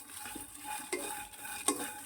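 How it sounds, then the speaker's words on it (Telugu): Dried red chillies and garlic are being lightly fried in a pan, giving a faint sizzle with a few soft scraping stirs and clinks of a utensil, close and quiet. "దీనిలోనే తెల్లగడ్డలు లైట్గా వేయించుకుంటానండి,"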